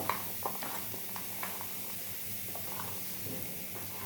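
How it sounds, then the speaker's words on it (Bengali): Finely chopped onion frying in hot oil in a home kitchen pan, a steady soft sizzle and hiss with faint crackles, continuous and low behind quiet surroundings. "তারপরে দিয়ে দেবো পেঁয়াজ কুচি"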